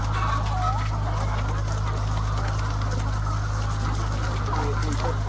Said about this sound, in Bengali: এখানে প্রায় চার হাজার মুরগি আছে চার হাজার মুরগি এখানে ঘুরবে ফিরবে খাবে